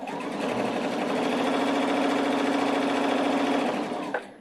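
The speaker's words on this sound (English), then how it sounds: "I sew forward about 5 stitches, backward about 5 stitches, and then I continue on" A Pfaff 710 or 720 sewing machine lock-stitches the top of a seam, forward and back about five stitches, humming loud and close in one continuous run before stopping.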